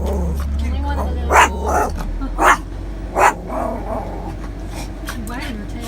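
A dog outside an RV gives three or four separate sharp barks at moderate distance, spaced about a second apart, while a person talks quietly over a low steady hum.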